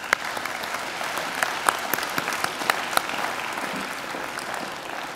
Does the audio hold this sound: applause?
yes